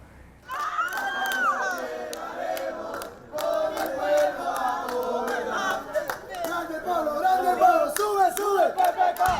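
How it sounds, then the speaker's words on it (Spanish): Supporters greet presidential candidate Pedro Pablo Kuczynski at Jorge Chávez International Airport in Lima with loud chanting and shouting, a crowd's voices rising in waves with scattered clapping, building and staying dense to the end. "Con la ovación de sus seguidores"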